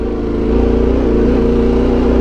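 An off-road vehicle's engine drones loud and close as it accelerates through a turn, a steady, slightly rising roar with no voices over it.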